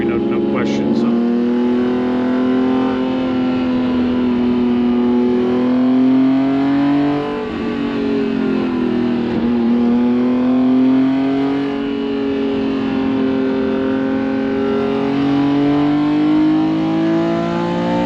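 A BMW M1 sports car engine revs while driving, a loud, sustained mechanical drone that swells and dips in pitch as the throttle changes, heard close up throughout.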